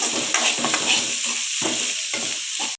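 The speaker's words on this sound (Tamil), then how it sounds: "வெங்காயமும் கருவேப்பிலையும் வந்து நல்லா வதக்கி விட்டுறலாம்" Onions and curry leaves sautéing in hot oil in a pan for a chicken dish, a loud close sizzle broken by several rhythmic stirring scrapes, with no speech.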